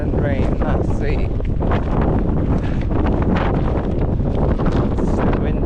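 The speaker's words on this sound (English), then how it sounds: "It's so windy." Strong wind blasting across an outdoor microphone, a loud, steady broadband roar with gusty surges throughout and no clear talk.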